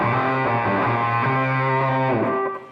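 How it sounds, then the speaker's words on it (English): A fuzzy electric guitar riff runs through an octave pedal and EQ, giving a thick doubled low tone; loud, continuous and alone before fading at the end. "I have the octave on and some EQ."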